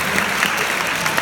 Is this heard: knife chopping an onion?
no